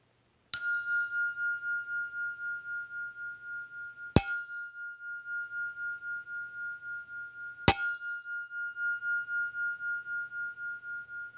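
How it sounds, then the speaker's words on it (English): A meditation bell struck three times at a slow, even pace, each clear ring decaying over a few seconds in a quiet room, with no talking. "So focusing on these four, I'll sound the bell."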